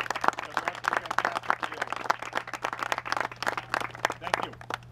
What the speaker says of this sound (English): So I want to give them a big round of applause up front.